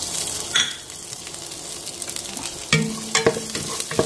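Onion, ginger and garlic sauté in a pan for mackerel curry, giving a steady close sizzle with occasional stirring scrapes and utensil clinks against the pan, no talking.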